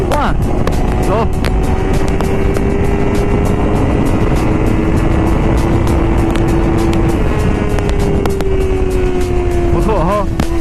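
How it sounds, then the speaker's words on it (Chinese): A KOVE 250rr Thornbird twin-cylinder motorcycle engine revving while riding, a steady loud buzzing drone with a slowly shifting pitch, heavy wind rush over it, and a rider talking at times. "13000转断油的这个双缸就是这种感觉，你给油"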